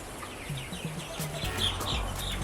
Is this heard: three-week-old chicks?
yes